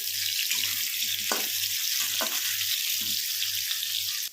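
Potatoes fry in hot mustard oil in a kadai, a loud, continuous close-up sizzle with an occasional stirring scrape, cutting off abruptly at the end.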